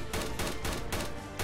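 Rapid bursts of gunfire from the Dread Scar H gun in a zombie video game, about four or five sharp shots in quick succession, loud and close, with no talk.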